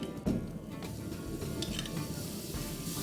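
Melted butter sizzles on a flat griddle, a steady close crackling hiss that runs without pause, joined by a brief scrape or clink near the start.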